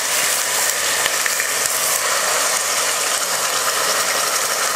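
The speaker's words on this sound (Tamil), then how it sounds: "நல்லா பேஸ்ட்டாக அரைச்சிக்கோங்க." A kitchen mixer grinder turns onions into a smooth paste with a steady, loud, hissing whir that runs unbroken from start to finish and has no voices over it.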